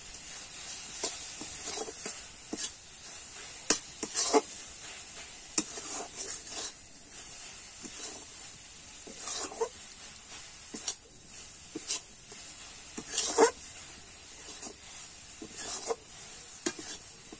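A spoon stirs a raw mango laddu mixture with ground spices in a pan, giving soft repeated scraping and light sizzling, quiet and close, with no talking.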